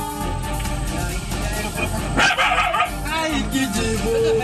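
A mother dog in Bhadrak barks, yips and whimpers while fighting a cobra beside her newborn puppies, the agitated calls close and mixed with voices and background noise.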